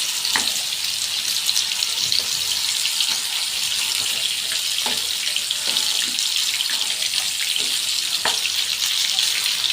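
Water poured into a hot pan of fish roe with cumin, chili and turmeric powders, giving a steady loud hiss and bubbling sizzle throughout with a few faint clinks.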